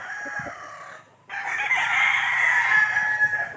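Gamecocks on a farm crow loudly and continuously, one long call fading before a brief pause, then several overlapping crows at close range.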